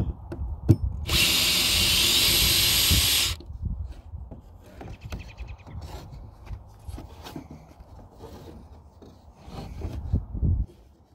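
A power drill reverses its bit out of a wooden table: a loud, steady high whine for about two seconds, followed by scattered knocks, scrapes and handling clatter nearby, with no talking.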